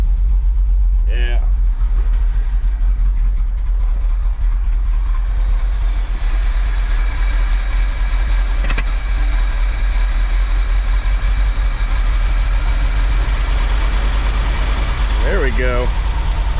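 An old International Loadstar truck engine runs steadily at half choke after sitting for years, a loud low rumble with a brief sharp knock midway and voices talking over it.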